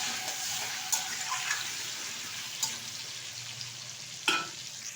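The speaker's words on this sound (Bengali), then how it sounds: "আলুটা কিন্তু ভালোভাবে ভেজে নিতে হবে।" Potato pieces frying in oil with a little salt, a steady close sizzle with a few sharp clinks of stirring, with no talking.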